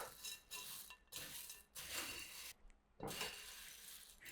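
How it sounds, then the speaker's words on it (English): Cashews, pretzel sticks and Chex cereal tossed together in a bowl, giving bursts of dry rattling and crunchy shuffling in several separate strokes with short pauses between, close and fairly quiet, with no talking. "cashews, and the pretzel sticks. I'm just going to mix them together."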